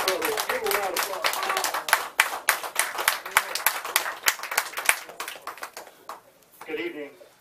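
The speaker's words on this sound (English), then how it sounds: "Give him a round of applause" Applause at a community meeting, a brisk run of sharp, distinct claps from a modest crowd that thins out toward the end, giving way to a speaking voice.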